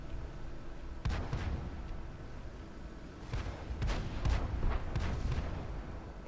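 Several distant muffled booms from explosions in World of Tanks, scattered irregularly over steady background rumble, fairly quiet.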